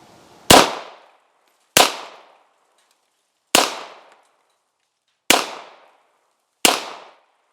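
Five loud, sharp gunshots from a Beretta 96 pistol fired at pumpkins on a shooting range, spaced roughly one to two seconds apart, each with a short decaying tail and no talking.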